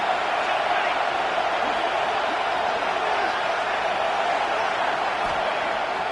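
A football stadium crowd keeps up a steady, loud roar for the full stretch, a broad constant wash of cheering noise during a second-down play in Iowa.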